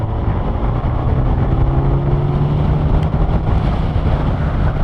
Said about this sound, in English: Just feel the acceleration in 6th just start to pick up there.